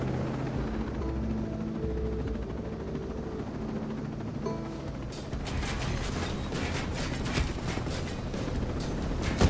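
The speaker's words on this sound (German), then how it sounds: "Als erstes schnappt ihr euch einen Helikopter mit Raketen." Attack helicopter armed with rockets in the video game Ghost Recon Breakpoint, a steady rotor and engine drone that gives way halfway through to rapid bursts of rocket or weapon fire and impacts, loud and continuous.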